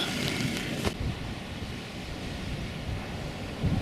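Steady winter wind buffets a tent on Dartmoor near Oke Tor in the evening, with a broad rushing roar and occasional gusty thumps, no voices.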